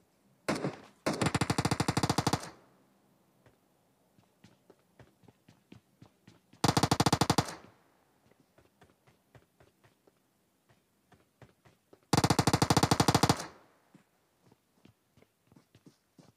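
Gunfire in a PUBG Mobile fight: three long bursts of rapid automatic fire, loud and close, separated by quieter stretches of scattered shots and footstep-like taps.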